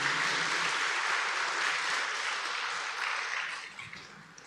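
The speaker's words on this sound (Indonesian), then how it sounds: "Sekali lagi tepuk tangan yang meriah untuk mereka." Church congregation applauding during a Sunday Lent service, sustained loud clapping that slowly tapers off toward the end.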